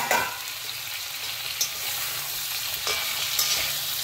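Honey mustard chicken frying in a pan gives off a loud, steady sizzle, broken by a few scraping stirs at intervals; no one speaks.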